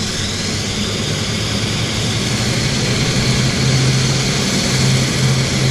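A winglet-equipped airliner takes off at Vancouver airport, its engines a steady, loud broadband roar that holds for several seconds and swells slightly near the end, with a low tonal hum rising underneath.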